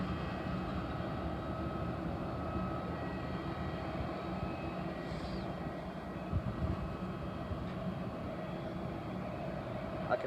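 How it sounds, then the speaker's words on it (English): A Royal Jordanian Boeing 787-8 airliner at Heathrow gives off a steady, distant engine roar that holds evenly throughout, with no talking over it. "now there's a Royal Jordanian Boeing 787-8 returning home to Amman"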